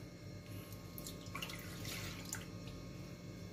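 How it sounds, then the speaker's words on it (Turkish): Mandarin juice pours into a pot for making Turkish delight with walnuts, a brief splashing trickle that swells in the middle over steady kitchen background noise. "Mandalin suyumuzu döküyoruz."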